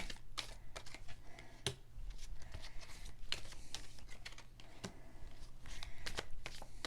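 Tarot cards are shuffled and handled close by, giving a steady run of soft riffling and crisp clicking snaps with a few sharper slaps, over a faint low hum and without any talking.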